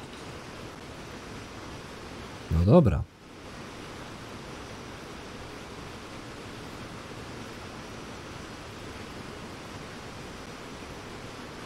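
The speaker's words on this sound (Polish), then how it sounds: "Poprzez wodospad." A waterfall in the Cyberpunk 2077 video game gives a steady, even rush of falling water from start to finish, broken briefly near the beginning by someone saying a short phrase over it.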